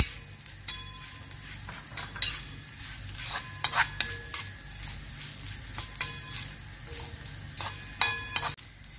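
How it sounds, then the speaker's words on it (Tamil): Grated coconut and cumin dry-roast in a pan, with a soft steady crackle under repeated scraping and clicking of a spatula against the metal, close and fairly quiet, no voices. "போட்டு கொஞ்சம் கோல்டன் ப்ரௌன் ஆகும் வரைக்கும் எடுத்துக்கோங்க."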